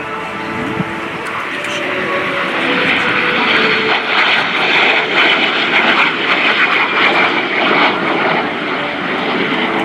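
A de Havilland Vampire jet at a naval air station airshow gives a loud, sustained engine roar that swells as it passes close, with no voices.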